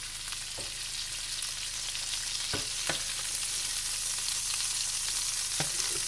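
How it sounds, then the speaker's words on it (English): Turkey wings brown in bacon grease, frying with a steady crackling sizzle alongside a few soft utensil clinks and scrapes, with no talk. "let me just brown these turkey wings another minute or two"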